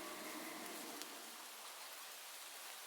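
Steady rain falling, a soft even hiss of drops on surfaces, faint and continuous with no voices.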